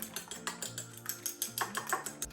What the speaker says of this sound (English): let me just scramble this egg up really quick